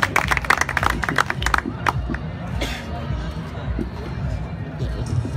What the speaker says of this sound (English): So very hard clap for him.